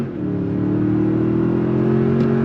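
A 2022 Toyota Tundra 1794 Edition with the i-Force Max powertrain accelerates hard on throttle, its engine note rising steadily and loud from inside the cab, with no talk over it.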